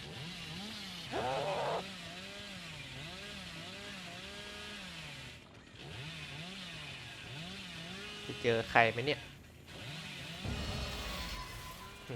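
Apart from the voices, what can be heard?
chainsaw revving in a video game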